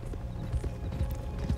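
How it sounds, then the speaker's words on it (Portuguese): Hooves of an Arabian horse clip-clop in Red Dead Redemption 2, a steady, fairly loud rhythmic trot that runs through the whole stretch with no talk over it. "Esse cavalo é o sangue árabe"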